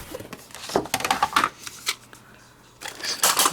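Scoring a card base at 5 inches, a run of short scraping and rustling strokes of a tool across paper card, quiet and close, in uneven bursts with a pause in the middle.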